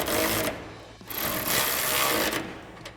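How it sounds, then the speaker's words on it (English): A ratchet with an 18mm shallow socket tightens the lower mounting bolts of a grille guard at the tow hook mounts on a 2015-2020 Ford F-150. Close, rapid clicking comes in two bursts with a brief break between them. "Now we're going to tighten down our lower mounting bolts at our tow hook mounts with our 18mm shallow socket on"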